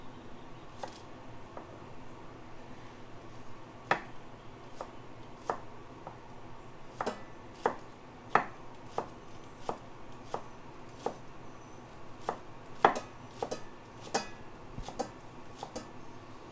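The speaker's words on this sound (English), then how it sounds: "I need to cut up some of these shallots here." A knife chops shallots on a cutting board in a series of sharp, separate knocks at an uneven pace, some quick and others spaced apart, fairly faint over a quiet background with no talking.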